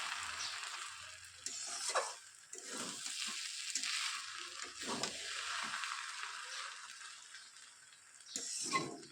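Muri ghonto, a Bengali fish-head and rice dish, is stirred in a pot after salt and sugar go in; the ingredients scrape and sizzle wetly in bursts at close range, with no voices.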